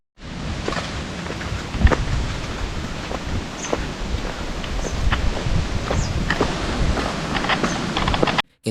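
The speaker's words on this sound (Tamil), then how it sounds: "இந்த இடத்துல இந்த காற்றுக்கு செடியாக செய்கிற சத்தம், அந்த ரிவரில் தண்ணி ஃப்ளோ ஆகிற சத்தம்" Wind rustles plants at Palakapandi Waterfalls near Kellengode while river water flows in a steady, full wash, with scattered soft knocks and crackles in the noise.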